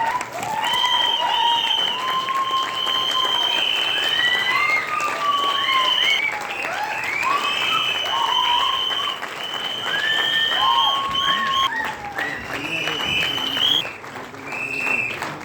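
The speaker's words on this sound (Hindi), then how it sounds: "जोरदार तालियां चाहिए।" An audience at a stage event in a Jaipur camp gives sustained applause over about fifteen seconds, while bright whistling tones or music ride on top of the steady clapping.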